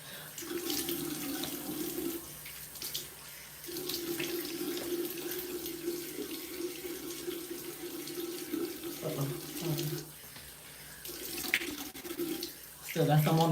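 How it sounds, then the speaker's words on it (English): Cold tap water runs into a sink while someone rinses their face, a steady close splashing stream that stops and restarts with brief pauses and hand splashes. "And then my last rinse for my face is cold water."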